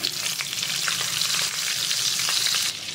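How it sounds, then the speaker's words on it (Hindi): Butter melting into hot oil in a pan sizzles as a steady, fairly loud bright hiss with faint crackles throughout, for a paneer butter masala. "तेल गर्म हो गया है अब हम इसमें थोड़ा सा बटर डालेंगे"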